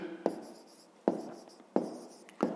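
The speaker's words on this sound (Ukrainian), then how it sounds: "А зараз запишемо інші." A pen writing on paper while working a fifth-grade geometry exercise, heard as four short, close scratchy strokes with quiet pauses between them and no voices.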